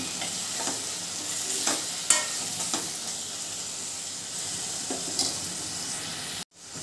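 Two cut tomatoes are stirred into browned onions in a hot pan, giving a steady close sizzle with intermittent scraping strokes of the spoon, ending abruptly near the close.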